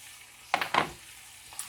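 Mustard seeds pop in hot oil with a few quick, close crackling bursts over a faint background sizzle, then a single small pop after a short pause.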